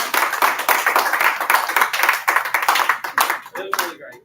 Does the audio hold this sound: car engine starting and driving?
no